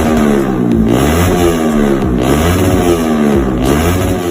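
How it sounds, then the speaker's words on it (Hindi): Loud, close revving from a Yamaha R15 V3 with an Arrow exhaust, the engine pitch swooping up and down in several quick throttle blips with a steady, raspy drone between them. "तो अभी सुनेंगे एरो का साउंड।"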